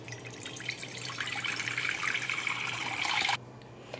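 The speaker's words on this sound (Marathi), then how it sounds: "आपण याच्यामध्ये पहिले पाणी टाकून घेऊया" Water streams into a pressure cooker being readied for pigeon peas, a steady splashing pour that runs for about three seconds close by and then cuts off abruptly, leaving faint room hum.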